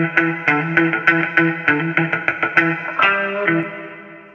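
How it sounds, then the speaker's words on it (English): Music track with a small church reverb effect applied, plucked and strummed notes in a steady rhythm with bright harmonic tones that ring out and decay into a roomy tail, played alone without talk. "I'm going to change it to a small church."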